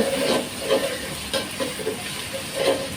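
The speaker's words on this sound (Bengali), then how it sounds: "এবারে মশলাপাতি আদা রসুন এই পেঁয়াজের সঙ্গে দিয়ে আবার ভেজে নেব তো এই তো ভেজে নিচ্ছি" Onions frying in a pan with ginger and garlic spices added, a steady close sizzle with pulses of stirring or tossing in an uneven rhythm, without any voices.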